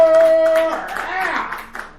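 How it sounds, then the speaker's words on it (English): Applause from the audience at a dive bar comedy show, a short burst of clapping that starts under a voice and then carries on with crowd noise. "Another round of applause for Miss Heather Cleveland Rock Wonder."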